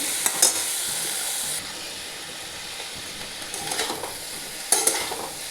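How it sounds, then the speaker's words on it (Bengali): Chopped tomato hitting hot oil in a pan for a vegetable curry, giving a steady broadband sizzle with a few sharper bursts of hissing and stirring scrapes, close and alone with no talk. "এরপর আমি টমেটোটা কুচিয়ে দিয়ে দিচ্ছি।"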